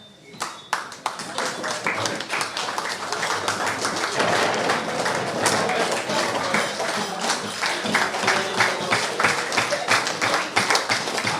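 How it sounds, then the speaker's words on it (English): A crowd at a sports club reunion celebration in Grenada gives a long, hearty round of applause. The dense, steady clapping carries on for over ten seconds, with voices mixed in beneath it. "Let's give them a hearty round of applause"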